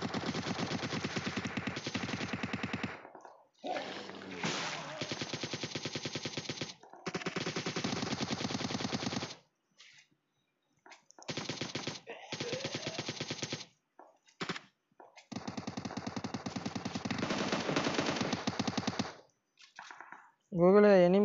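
Rapid automatic gunfire from an enemy in PUBG Mobile zombie mode, loud bursts of repeated shots in long stretches broken by brief silences, with game sounds and occasional speech mixed in.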